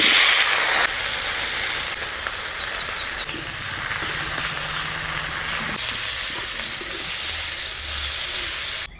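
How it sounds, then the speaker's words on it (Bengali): Cauliflower pieces fry with salt and turmeric in hot oil, giving a steady, close, hissing sizzle that holds evenly throughout with no talking. "এবারে ফুলকপিগুলো নুন হলুদ দিয়ে লাল করে ভেজে নেব।"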